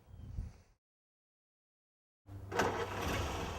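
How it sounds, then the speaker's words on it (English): An antique Ford Model A car engine turns over after a stretch of silence and settles into a steady, rough running note. It is preceded by faint low rumble and a brief noise. "Maybe it's the sputtering sound of the old engine"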